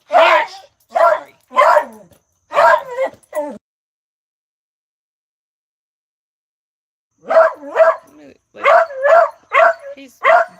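A dog barks in two clusters of sharp, repeated barks, close and loud, with a few seconds of silence between the bursts.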